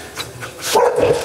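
A dog gives a couple of short, close barks in quick succession on entering a restaurant.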